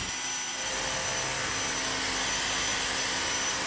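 A Dyson DC59 cordless vacuum cleaner runs over a hard floor, sucking up very fine dust with a steady, loud, high-pitched motor whine and airflow rush that holds constant throughout, with no talking.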